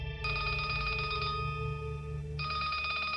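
An electronic telephone ringtone trills steadily, breaks off briefly, then resumes, over a low constant hum.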